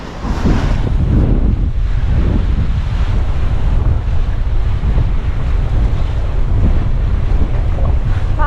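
Strong wind buffets the microphone on a sailboat off south-western Alaska, with wave and surf noise rolling under a loud, constant roar from a sea with white caps and a big beam swell.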